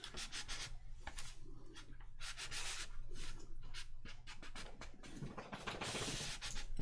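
A hand presses and rubs paper firmly down onto a craft page, giving close, quiet scratchy rubbing strokes in uneven bursts with no one talking.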